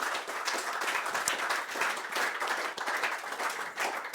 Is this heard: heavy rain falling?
no